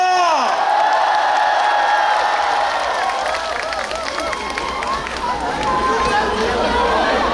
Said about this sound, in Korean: 큰 함성과 박수 다시 한번 부탁드리겠습니다